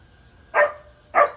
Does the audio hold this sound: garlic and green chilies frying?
no